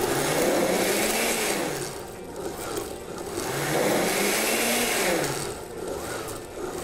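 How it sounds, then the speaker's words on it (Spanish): A blender whirs as it blends papaya into a smoothie, its motor rising and falling in pitch across two surging cycles, close and loud without talking. "Vamos a licuar acá, vamos a tener un pulso natural."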